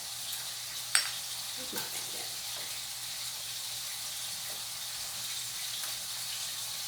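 Ground meat browns in a pan with a soft, steady sizzle, quiet and constant, with a couple of brief clinks near the start and a few words spoken over it.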